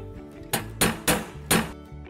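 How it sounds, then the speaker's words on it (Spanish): A hammer striking a pin punch to drive out rivets from a barrel hoop, four sharp metallic blows in an uneven rhythm, close and loud with short ringing decays. "Para eso cogemos un botador, el martillo,"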